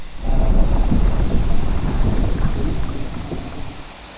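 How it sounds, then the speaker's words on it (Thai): Steady heavy rain roars close by with a low rumble of thunder underneath in Resident Evil, a continuous stormy wash of sound with no voices. "ชัดเจนฮะฝนตกด้วย"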